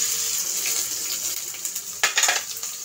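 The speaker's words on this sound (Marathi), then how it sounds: "आपण भाजी धुवून घेऊया" Radish greens are washed in water in a kitchen, a steady close splashing and trickling with a few sharper sloshes and rubbing bursts near the end, and no one speaking.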